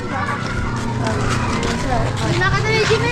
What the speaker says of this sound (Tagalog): Oh, may sasakyan.